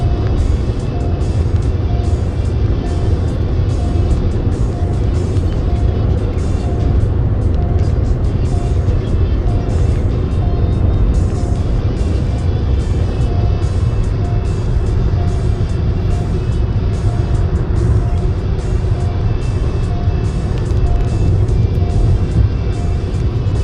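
A car drives along the Purvanchal Expressway, its engine and tyre roar forming a steady, loud rumble that runs unbroken throughout with no voices over it.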